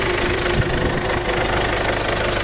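Ford Everest engine running after a top overhaul, a steady close idle with a low rhythmic knocking pulse and constant vibration throughout, no talk.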